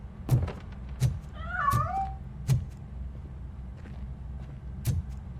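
A cat in the video game RoboCop: Rogue City meows once as it escapes, a short rising-and-falling cry in the middle, surrounded by soft thuds and footstep-like knocks over a low ambient hum.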